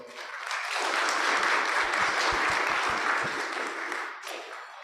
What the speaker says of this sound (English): Please give Doc another round of applause.